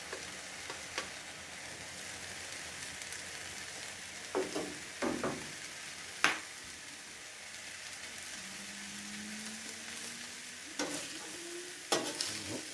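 Egg mixture frying on a Masterbuilt 1050 gravity-fed griddle, a soft steady sizzle with a few scattered scraping and tapping clicks, no talking.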